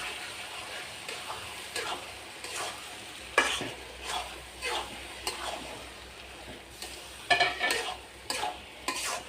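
A spoon stirs mango through a frying pickle in a pan, making a series of scraping strokes in an irregular rhythm over a soft sizzle, close and moderately loud.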